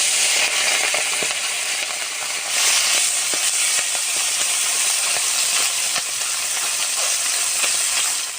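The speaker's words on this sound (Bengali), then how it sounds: "মাছ ভাজার জন্য কড়াইতে দিয়ে দেবো সরষের তেল।" Fish sizzling in hot mustard oil in a wok, a loud continuous hiss and crackle with sharp spatters that swells midway and stays strong to the end.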